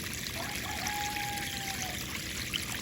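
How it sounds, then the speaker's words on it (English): Water from a garden hose pours steadily into a saltwater swimming pool, a soft, even splashing trickle that stays quiet and unbroken throughout. "We might need to add just a little bit of water back into the pool, which we just use a garden hose."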